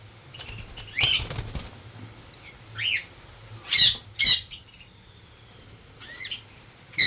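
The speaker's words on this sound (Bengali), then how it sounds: "আর আমার এখানে লাভ বার্ডের বাচ্চাগুলো বড় হয়ে গেছে, দেখতে পাচ্ছি। সব কেমন লাইটে ভয় পেয়ে যাচ্ছে।" Young lovebird chicks in a home bird setup flutter their wings in sudden bursts, startled by a light, with a few sharp squawks and chirps between quieter gaps, close by.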